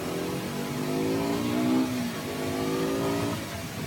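A 2020 KTM RC 125 BS6 motorcycle engine revs while riding, its buzzing note climbing and dipping smoothly in a loud, continuous drone that eases off slightly at the end.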